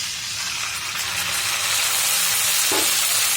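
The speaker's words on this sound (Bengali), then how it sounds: "এখন আমি দিয়ে দেবো আদা রসুন বাটা।" Onions with ginger and garlic paste fry in a pan with a constant loud sizzle and hiss that grows slightly toward the end, broken by one brief stirring scrape near the close, with no speech.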